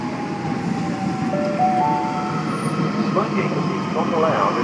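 A Sydney Trains M set, an eight-car Lidcombe service, arrives at Bankstown station with a steady rumble and rising motor whine, heard close and continuous along the platform.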